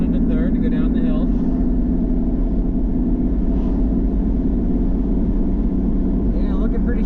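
Car engine drone after downshifting into third gear on a downhill stretch, a steady low hum with road rumble, while someone talks over it.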